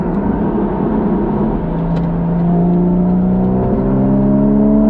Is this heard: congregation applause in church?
no